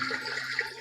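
Water poured out in a steady, fairly quiet rushing stream, continuous for under a second with a small surge near the end, no voices.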